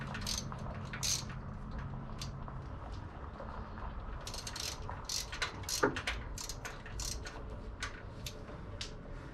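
A ratchet wrench loosens bolts on a car's fuel system, giving scattered bursts of quick clicking at close range over a low background rumble, with no talking.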